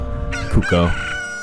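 The Pocket Cuckoo chicken in The Legend of Zelda: Ocarina of Time gives one loud, close rooster crow, a rising then drawn-out cock-a-doodle-doo.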